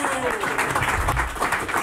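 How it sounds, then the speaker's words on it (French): Studio audience applause on a French TV game show plays as a busy, uneven patter of clapping with a low rumble and some overlapping voices beneath it, brief and fairly close. "Applaudissements."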